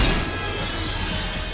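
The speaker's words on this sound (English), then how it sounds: "seeing him slash through the glass" Cartoon glass shattering effect as a fish-like alien slashes through glass, a loud crash at the start that breaks into a bright, sustained wash of scattering shards and fades slightly over a second and a half.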